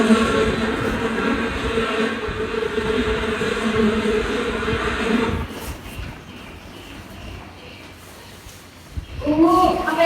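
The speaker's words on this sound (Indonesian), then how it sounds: "Tidak lama selang beberapa waktu terdengarlah suara lebah dari kejauhan" Bees buzzing in a children's drama performance, a droning, layered hum that fills the first half alongside a voice, then fades to near quiet before a short rising tone at the end.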